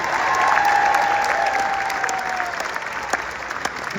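Audience at a North Central High School holiday concert applauding the school choirs, dense sustained clapping from a large crowd with a few cheers and whistles, loud and filling the room.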